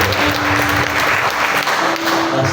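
A church congregation at a Sunday morning service claps loudly and continuously, a dense, sustained wave of applause from a large crowd with faint voices beneath.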